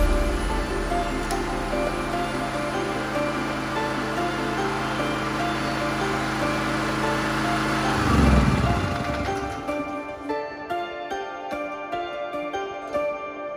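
A small petrol engine converted to run on water via electrolysis, idling with a steady loud chugging drone that rises briefly, then stutters and dies away into sparse irregular putters and clicks.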